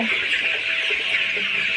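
Flock of about 2000 month-old tiger chickens on a poultry farm, a dense continuous chorus of soft clucks and peeps blending into a steady hum, no talk.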